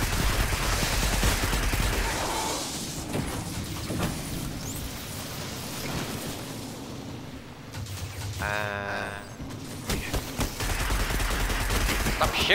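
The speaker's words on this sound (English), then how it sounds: "Stop shooting at me!" Gunfire in the video game Destiny 2 crackles in dense, rapid bursts that come and go, with a short mechanical chirping sweep partway through.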